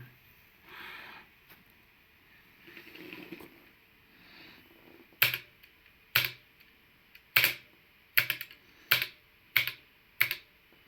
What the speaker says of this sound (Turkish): Asus ROG Falcon klavye boşluk tuşu testi.